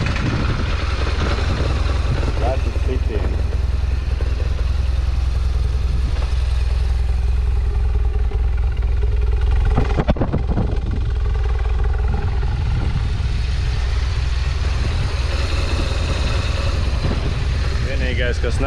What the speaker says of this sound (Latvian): Tā kā tagad mēģināsim moci parādīšu, pielaidīšu, kā viņš skan.